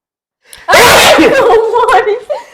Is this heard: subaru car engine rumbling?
no